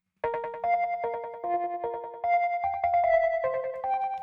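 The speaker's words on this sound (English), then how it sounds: "It's quite crunchy, and it's a nice little repeating ostinato pattern" A crunchy synth lead plays a bright, repeating ostinato of short plucked notes in a steady rhythm, heard clearly on its own with no talking.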